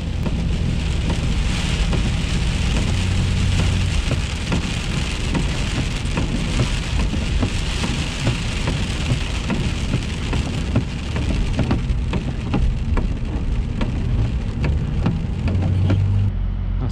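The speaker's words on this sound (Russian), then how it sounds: "Легкий дождь." Light rain falling at a rest area in South Dakota near Badlands National Park, a dense, steady hiss of drops on surfaces that stays loud and even throughout, with no voices.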